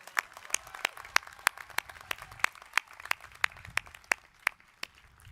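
Audience applause at a Norco College commencement ceremony: steady clapping from a crowd, with sharp individual claps standing out over a dense wash, continuing evenly throughout.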